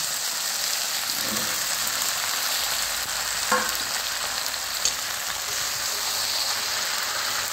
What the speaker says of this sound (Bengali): ঝিঙাটা দিয়ে একটু কষবো, কারণ ঝিঙাটার থেকে অনেক জল বেরোয়।